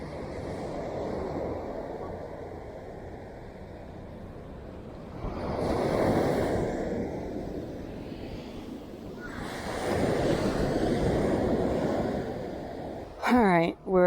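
Ocean surf on a Fort Lauderdale beach rolls in as two broad, moderately loud wave surges with steady wind and wash between them, heard alone without talk.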